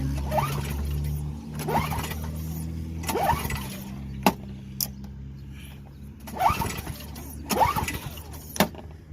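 An engine on a machine at an auction house cranks in repeated rhythmic bursts of starter whirring, with clicks and brief pauses, and never catches.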